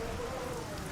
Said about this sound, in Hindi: कोई बात नहीं, ये सिर्फ बारिश है और कुछ भी नहीं।